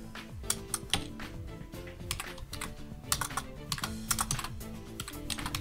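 Rapid computer keyboard typing clatters steadily throughout, with bursts of keystrokes over low game background music, close and moderately loud, with no talking.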